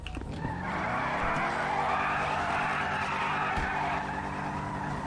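Car tires skidding in the GTA Online video game, a loud, sustained screech over a steady engine drone that holds for several seconds without a break.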